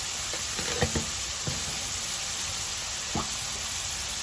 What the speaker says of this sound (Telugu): కొద్దిగా అల్లం పేస్ట్ ఇవన్నీ వేసుకొని ఇంకా ఫ్రై అవునాయి